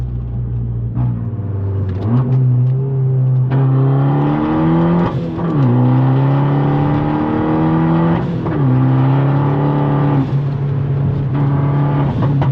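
A Fiat 500 Abarth turbo with a five-speed manual revs hard. The loud, close engine drone rises in pitch through each gear, then drops briefly at every shift, in a repeating pattern.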